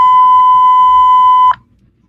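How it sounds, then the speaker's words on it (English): A single loud, steady electronic beep tone sounds for about a second and a half, then stops sharply, leaving faint background noise. "Beep, beep."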